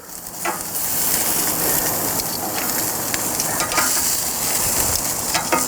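Shish kebabs start cooking on a grill, a dense crackling sizzle that swells after the first second and stays loud and steady, with no speech.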